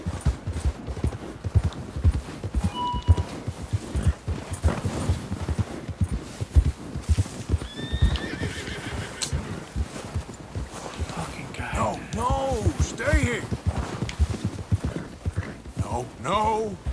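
Steady clip-clop of horse hooves in Red Dead Redemption 2 keeps a trotting rhythm throughout, mixed with a snort or whinny and voices talking over it.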